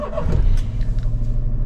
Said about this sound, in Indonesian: terlebih dahulu kita akan nyalakan mobil